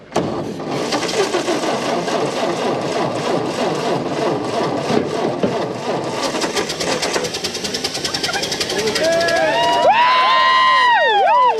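The starter cranking the engine of a 1929 Ford Model A, a loud, continuous rhythmic churning without catching, close by, with a high squealing, whistling sound rising near the end.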